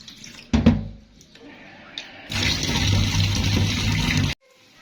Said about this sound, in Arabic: نحط ميه نضيفه